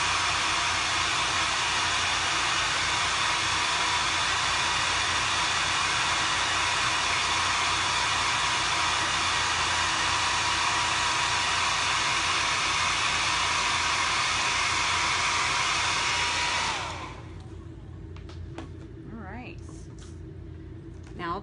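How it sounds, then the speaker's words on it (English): Hair dryer or heat tool blowing on chalk paste during a craft transfer, a loud steady whooshing roar for most of the stretch, then cutting off abruptly and leaving faint handling noises. "And then I'm going to dry that"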